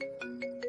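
A mobile phone ringtone plays a short repeating electronic melody of bright tones, fairly faint and alone.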